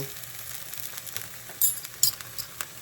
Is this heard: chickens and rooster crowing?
no